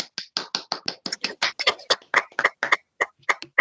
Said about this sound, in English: let's give a round of applause to the speaker